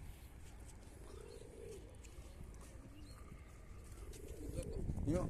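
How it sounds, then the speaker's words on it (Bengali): Many pigeons coo softly in the distance against a steady outdoor rumble, with low boat engine noise that swells toward the end. "গালের মধ্যে অনেকগুলি কবুতর"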